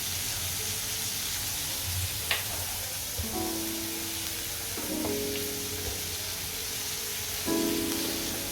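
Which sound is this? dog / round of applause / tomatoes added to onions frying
tomatoes added to onions frying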